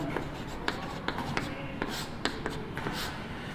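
Writing on a board during a physics class produces quick, close, rhythmic taps and scratchy strokes in a continuous run.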